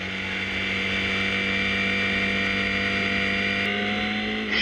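A historic Formula Ford 2000 race car at Cadwell Park drones at sustained high revs, a steady buzzing engine note held close and loud before a brief shift near the end.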